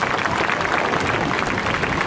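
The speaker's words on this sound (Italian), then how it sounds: "Signore e signori, un grande, grandissimo applauso" Dense applause from a large outdoor air show crowd at Jesolo for the Frecce Tricolori aerobatic team, a loud continuous roar of many clapping hands with no break.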